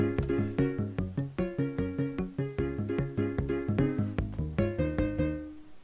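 Minecraft note blocks play a rendition of a song from Zootopia, with bass and wool-block notes in a bright, steady plucked melody over a bouncing bass line, struck in quick regular rhythm and heard alone without speech.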